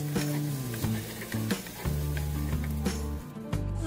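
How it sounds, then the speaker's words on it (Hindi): Garam masala and cumin sizzling in hot oil in a karahi, a steady close frying hiss with stirring scrapes, while a low musical tone hums underneath throughout. "इस गरम मसाले को थोड़ा सा इसके अंदर भूनेंगे ताकि जीरे की इसमें अच्छी तरह से खुशबू आ जाए।"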